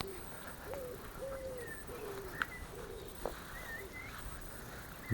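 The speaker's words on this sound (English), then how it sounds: "The birds are singing." Birds call and coo in a quiet churchyard, with pigeon- or dove-like coos and short chirps scattered over a steady outdoor background, moderately near.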